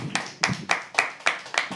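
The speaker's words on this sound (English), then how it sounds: "keep clapping till he comes on stage" A live audience claps in steady bursts at a poetry open mic, sharp sustained clapping rising and falling in waves up close with no voices.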